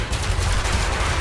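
A Viper ship's multi-cannon in Elite: Dangerous firing in a dense, continuous rapid burst, loud and low-heavy, with no talk over it.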